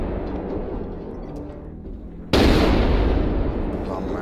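Marauder II mech weapons in MechWarrior Online fire together in a sudden heavy blast that cuts in after a low rumbling stretch, then a sustained roaring burst of gunfire.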